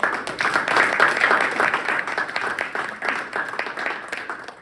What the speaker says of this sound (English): Let's give Gavin a round of applause.